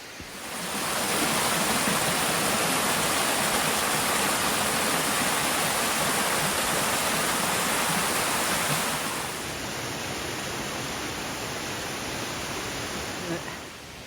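Beaver Brook, a mountain stream on the Appalachian Trail, rushes steadily and loudly close by, a broad, continuous wash of flowing water that eases slightly in level toward the end.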